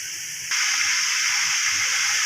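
Garlic-ginger paste drops into a pan of lightly browned fried onions, setting off a sudden loud hiss that holds steady and close throughout, with no talking.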